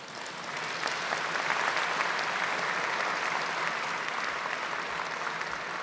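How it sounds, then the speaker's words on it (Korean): Sustained applause from a large audience at the rollout ceremony of the KF-21 Boramae fighter jet, steady dense clapping that starts softly, rises within a second and stays even throughout. "큰 박수로 맞이해 주시길 바랍니다."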